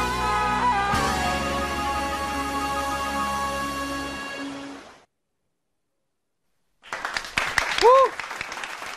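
Studio audience applause on a Vietnamese game show after a cai luong song excerpt, a burst of clapping that comes in after sustained music and a silent gap, with voices over it.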